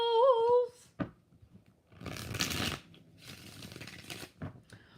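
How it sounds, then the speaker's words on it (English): Purple tarot cards are shuffled by hand, with rustling, riffling bursts spaced out over several seconds. A short hummed or sung tone comes just before them, and the handling is close and fairly quiet. "5 shuffles."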